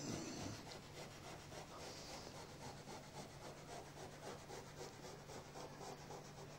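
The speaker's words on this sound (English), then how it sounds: "carefully rub the tape edges with a piece of Scotch-Brite" A Scotch-Brite pad rubs along the edges of freshly laid masking tape on a panel, making a soft, continuous, rhythmic scrubbing hiss at low level with no voices.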